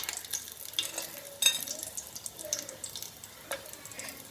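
Bay leaf, cardamom pods, cinnamon sticks and cloves sizzle in hot oil at close range, a steady soft frying hiss broken by a few brief stirring scrapes, with no talking.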